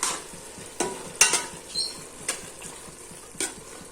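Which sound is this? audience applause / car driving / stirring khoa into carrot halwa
stirring khoa into carrot halwa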